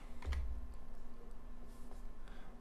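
Soft, quick keystrokes on a computer keyboard, a short burst of typing while building a web page, faint under a low steady hum.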